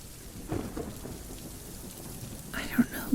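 Heavy rain pours steadily outside while low thunder rumbles faintly in the distance, all of it soft and muffled as if heard from indoors.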